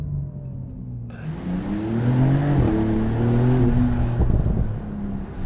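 A 2025 Porsche 992 Turbo 50 Years engine pulls hard under acceleration, a deep rising drone that climbs in pitch, shifts, and keeps building, heard close and alone.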